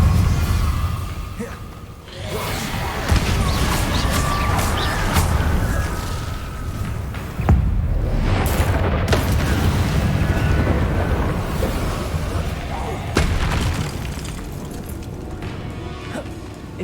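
Incendio fire spells cast in Hogwarts Legacy: loud roaring whooshes and booming bursts over a dense, rumbling combat din, with sharp hits around three, seven and thirteen seconds.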